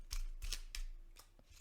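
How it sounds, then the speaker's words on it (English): Someone shuffles a small deck of tarot-style cards by hand, giving a few quick, soft riffles and slaps at close range, faint and with no talk. "It's very difficult to shuffle."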